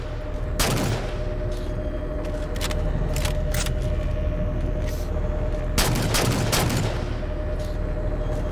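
Incoming gunfire in Halo 4, sharp bursts of shots and impacts over a steady hum, with two heavy volleys near the start and later, loud and close.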